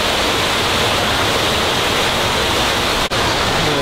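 A waterfall in a zoo enclosure housing orangutans pours with a loud, constant hiss-like roar, broken only by a momentary dip near the end, with no voices.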